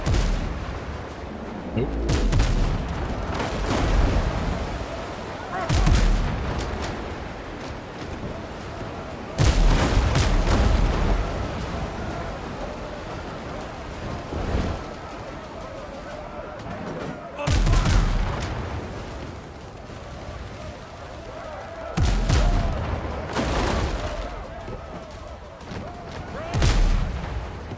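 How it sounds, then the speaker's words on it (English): Gunfire from an enemy shooting at the player in the video game Windrose, heard as several loud bursts of shots spaced every few seconds, with game sounds and spoken voices in between. "Oh, she's already shooting at me."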